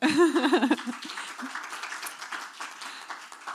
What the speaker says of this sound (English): A round of applause here in the room.